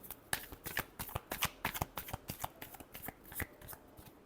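Tarot cards are shuffled by hand close up in a rapid run of crisp riffling flicks and soft slaps, about a dozen quick bursts over a few seconds, fairly quiet and with no speech.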